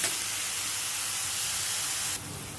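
Chopped onion cooking in a pan for a Marathi raw banana dish, giving off a steady, close hiss and sizzle that holds even and then drops slightly in level near the end.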